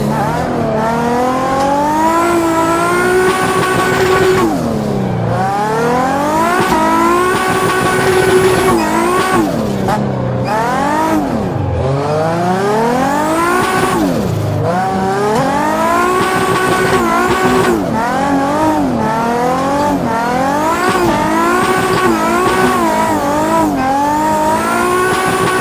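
A drifting car burns rubber, its engine revving up and down hard in sweeping surges while tires squeal, loud and close throughout without a break.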